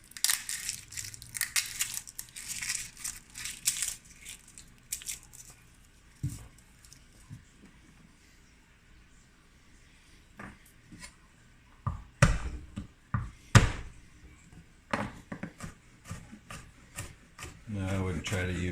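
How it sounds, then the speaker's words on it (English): Fresh garlic being cut up and crushed on a board, with irregular bursts of close crunching, chopping and rubbing, some sharp loud cracks, separated by quieter pauses and occasional low speech. "Next step is to cut up some garlic."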